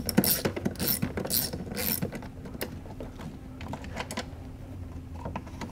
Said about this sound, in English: we're going to take our Torx T30 and we're going to remove the storage box